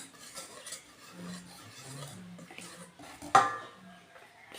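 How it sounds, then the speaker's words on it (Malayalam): Cake batter with milk being whisked slowly by hand in a bowl, giving soft scraping and stirring strokes and one sharper clink of the whisk against the bowl. "വിസ്ക് വെച്ചിട്ട് മെല്ലെ പതുക്കെ ഒന്ന് മിക്സ് ചെയ്തെടുക്കണം."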